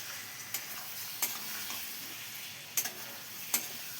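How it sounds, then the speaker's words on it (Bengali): A potato curry with garam masala is stirred and fried in a pan, a soft low sizzle broken by a few sharp spoon knocks against the pot, quiet and close, no voices. "গরম মশলাটা দিয়ে একটু নেড়ে চেড়ে নিয়ে"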